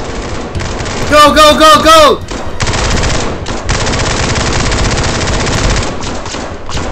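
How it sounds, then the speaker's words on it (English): Automatic gunfire in the video game SCP-5k, loud sustained bursts of rapid shots close by, with players shouting over the opening moments and a short rattling volley standing out near the start. "They're shooting at us!"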